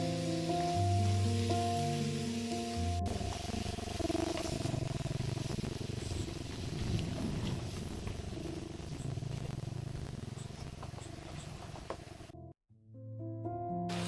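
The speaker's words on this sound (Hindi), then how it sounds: "इन सबको डालकर हम अच्छे से भून लेंगे।" Yogurt and spices frying in a pan for dhaba-style shahi paneer, a continuous soft sizzle and crackle throughout, close and moderately quiet, with a brief clatter and a sudden cut near the end.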